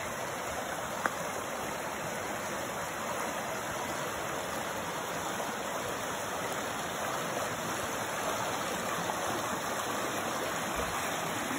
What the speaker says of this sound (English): rocks with a lot of water coming through